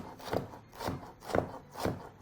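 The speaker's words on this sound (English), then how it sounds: "begin by chopping up very finely your first half of your white onion" A knife chops half a white onion finely on a board in a home kitchen, four even, evenly spaced knocks close up with no voices.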